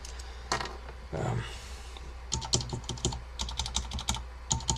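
Keys on a Focus FK-2001 keyboard with Alps switches clack in irregular bursts of typing, close and clear, with a brief rustle of handling between keystrokes.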